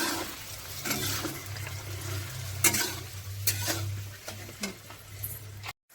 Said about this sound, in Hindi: पहले फ्राई कर लेते हैं पनीर को।